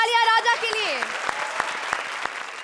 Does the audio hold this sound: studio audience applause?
yes